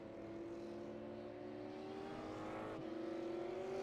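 A V8 race car from a racing video game, a white Mustang warming its tyres at Silverstone, drones in a steady high engine whine that shifts pitch near the end, fairly faint, with no voices.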